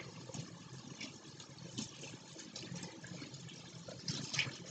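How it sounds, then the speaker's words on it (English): Warm tap water runs steadily into a sink as hands are rinsed, a soft, continuous wash of splashing that stays fairly quiet throughout with no talking. "I'm going to turn down the water and you want it warm."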